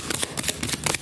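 Tarot cards are shuffled and drawn up close, a quick run of crisp, rhythmic riffling bursts in close succession.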